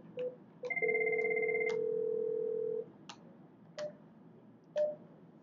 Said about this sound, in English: just dial the extension of the person you're trying to call